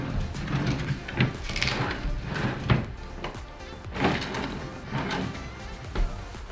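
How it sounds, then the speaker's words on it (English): Wooden particle-board dresser drawers from a bedroom set slide open and shut repeatedly, giving irregular thumps and scraping rumbles with sharp knocks as each drawer closes, close by. "Just checking just to make sure all the drawers work."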